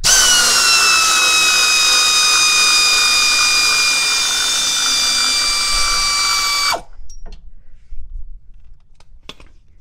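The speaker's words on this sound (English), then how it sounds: "I'm going to use my air ratchet to get these bolts off." A pneumatic air ratchet removes bolts from the front shock mount of a 2014 RAM 2500 diesel, a loud, steady high whine lasting several seconds before cutting off, followed by a few faint clicks and clanks.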